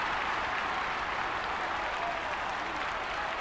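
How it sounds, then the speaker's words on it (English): Stadium crowd noise from the GameCube baseball game All-Star Baseball 2002, a steady, dense roar of cheering and applause holding at an even level throughout without a break. "You can feel the crowd here. The noise is deafening."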